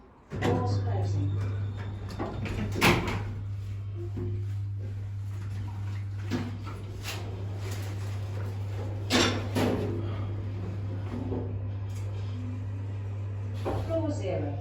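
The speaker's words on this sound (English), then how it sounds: "Doors closing." Kone lift doors closing at Seaburn Metro Station platform lift in Sunderland, a few mechanical clunks and rumbles over a steady low motor hum, close and moderately loud.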